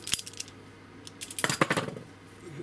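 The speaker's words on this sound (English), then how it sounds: "So let's give the 7LW a go at cutting copper." An Irwin Vise-Grip 7LW locking wrench bites into copper with a sharp metallic click, then a burst of quick crunching, squeezing snaps, close and fairly quiet.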